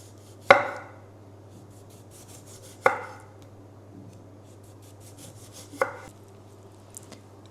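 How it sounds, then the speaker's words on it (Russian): A kitchen knife slices vegetables into rings: three sharp, separate cutting strikes a few seconds apart, then a fainter fourth, over a quiet room with a low steady hum. "режем на такие колечки"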